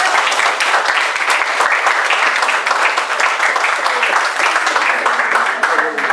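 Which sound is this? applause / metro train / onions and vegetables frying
applause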